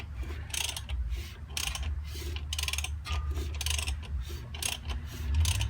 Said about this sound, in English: the pistons going up and down and the ratcheting from the ratchet I have on the crank bolt